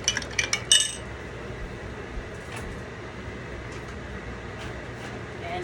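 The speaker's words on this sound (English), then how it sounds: "Now the next step, you stir it up" Spoon stirring Vietnamese coffee in a glass, a quick burst of bright clinks at the start, then only a quiet room hum.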